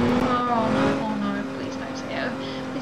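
A video game car engine revving with tires squealing as it skids out of control, while a person talks over it.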